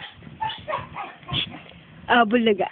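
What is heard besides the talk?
dog barking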